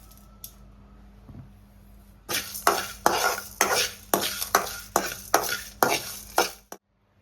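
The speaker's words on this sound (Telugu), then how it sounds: "మసాలా దినుసులన్నీ వేయించుకుందాం" Whole spices such as coriander seeds, cumin, star anise, cloves, cardamom, cinnamon and bay leaf are dry-roasted in a pan and stirred. After a few quiet taps, a spoon scrapes and rattles across the pan in about ten rhythmic strokes, then stops abruptly.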